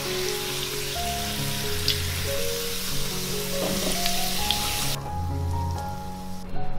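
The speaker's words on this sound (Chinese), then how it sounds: "加入适量油，油温热了，把配料放下来炸香。" Aromatics hit hot oil in a wok for Cantonese braised pork trotters with preserved plum, making a loud, dense, continuous sizzle like heavy rain that stays steady throughout, with no voices.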